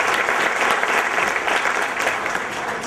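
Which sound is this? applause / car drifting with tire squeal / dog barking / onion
applause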